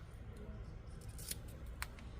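Scissors snipping at roots of a potted plant, a few sharp close cuts standing out over steady low background rumble.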